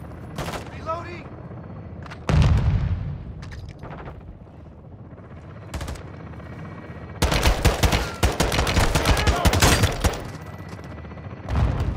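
Gunfire in Call of Duty: Modern Warfare II comes in loud rapid bursts with heavy booms between quieter gaps, including a long sustained automatic volley, with a voice talking over parts.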